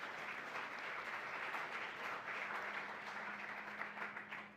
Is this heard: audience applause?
yes